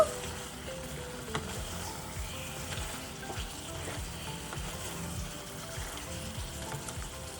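Tomato pieces fry in a chicken curry gravy, giving a steady close sizzle with soft stirring scrapes and occasional spoon clinks throughout.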